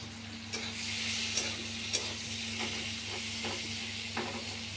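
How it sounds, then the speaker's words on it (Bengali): Onion frying in a pan of hot oil with black cumin seeds, a steady close sizzle with a constant hiss and occasional soft stirring knocks. "পেঁয়াজটা ভেজে নেব"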